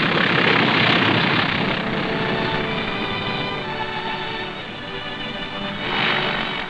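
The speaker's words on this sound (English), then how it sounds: "The first plane landed just 24 hours after the Seabees had started to work." An airplane landing on a newly built wartime airstrip in the Pacific comes through as a steady, fairly loud propeller engine drone that swells at the start, eases slightly, then rises again near the end.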